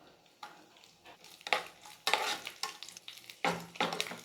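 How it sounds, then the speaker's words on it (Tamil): Grated coconut and raisins roasting in ghee in a pan for payasam, a Vinayagar Chathurthi offering: a spatula scrapes and stirs in uneven bursts over a light sizzle, close and moderately loud, with no talking. "தேங்காயெல்லாம் வறுத்துக்கணும். இப்போ வந்து நம்ம திராட்சை சேர்த்துக்கலாம்."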